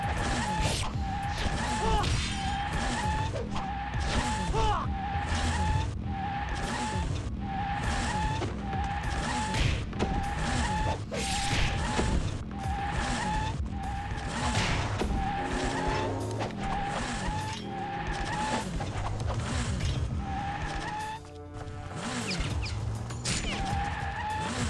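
Motorcycle gang riding in Ninja Gaiden Sigma: the loud engines rev and whine in a continuous, pulsing drone with rising and falling pitch sweeps, close and dense for the whole stretch, without any speech.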